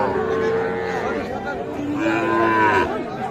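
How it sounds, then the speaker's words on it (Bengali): Crossbred bull calf, about two months old, lowing at a busy cattle market, with two drawn-out moos close by over a steady background of crowd chatter and voices. "ক্রস জাতের ষাঁড় বাছুর।"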